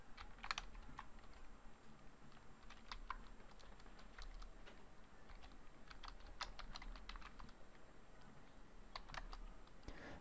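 Code being typed on a computer keyboard, a steady close stream of light clicking keystrokes with irregular rhythm and brief pauses, faint and alone with no talking.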